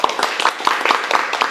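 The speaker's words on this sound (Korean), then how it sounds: "박수 한번 쳐요" A round of applause at a Korean online-selling seminar, a brief run of quick, evenly spaced, loud claps.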